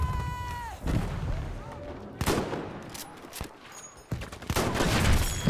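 Gunfire in Battlefield V combat: repeated sharp shots and heavy booming bursts spread irregularly through a noisy battlefield mix, with occasional whistling and metallic tones and muffled game sounds between shots.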